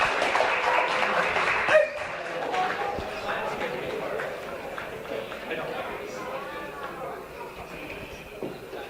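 An audience at a live strongman show, where a performer breaks bricks on his back, applauds and cheers steadily, with voices talking and calling over the crowd noise.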